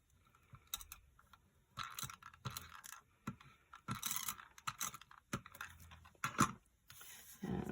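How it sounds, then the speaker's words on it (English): A tape runner lays adhesive tape onto cardstock while a rocker card is being made. Soft, irregular clicks and ratcheting rasps come up close, with quiet pauses between strokes. "So I'm just going to use the tape runner again."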